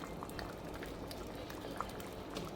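Dal kitchri boiling in a hot pot, a steady low bubbling simmer with small pops and crackles, fairly close and even throughout, with no voices.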